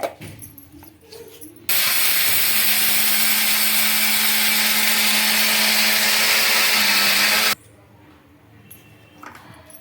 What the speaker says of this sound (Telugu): గ్రైండ్ అయితే చేసుకుందాం మిక్సీకి